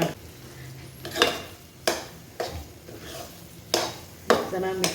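A spoon stirs cooked moong dal and rice in a pan for hot pongal, making several scraping, slapping strokes at an irregular rhythm with a faint sizzle beneath and no talk.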